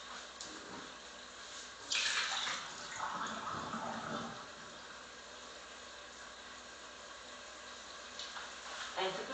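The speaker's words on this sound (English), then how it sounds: "I'm going to drain the water from the potatoes." Water poured off boiled potatoes, splashing and gurgling for a few seconds in a home kitchen, with fainter running-water noise and a few clatters afterward.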